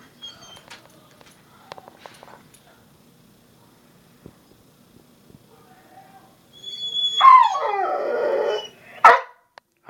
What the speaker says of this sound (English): You do not bark in the house.